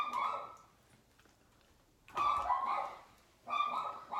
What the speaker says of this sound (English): I don't know why they're barking.